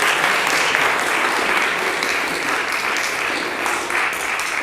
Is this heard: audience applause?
yes